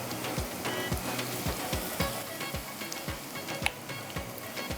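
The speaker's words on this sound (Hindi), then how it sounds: "थोड़ा सा इसको फ्राई कर लीजिएगा" Onion and cumin sizzle softly in a pan while a utensil stirs with regular scraping strokes, the frying crackle steady and fairly quiet throughout.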